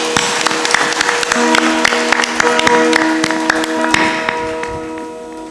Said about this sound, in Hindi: तालियां भी जोर से बजाइए।